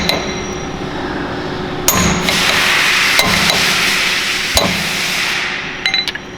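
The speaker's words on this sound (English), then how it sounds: "You find a punch or whatever you please to try and unseat this pin." A punch is hammered with a big piece of solid steel stock to unseat the pin of an EMF upper ball joint on a truck, giving a few loud, sharp metallic strikes spaced over a steady shop hum.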